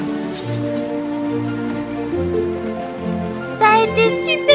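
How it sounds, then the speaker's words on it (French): Magic rain falls in a cartoon, a soft patter blended with sustained tonal chimes, with bright sparkling notes rising near the end. "Ne t'inquiète pas, Missifu, c'est une pluie magique"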